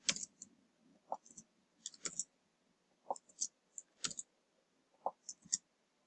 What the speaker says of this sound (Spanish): Aquí hacemos clic, presionamos enter y nos entrega el tiro el resultado en porcentaje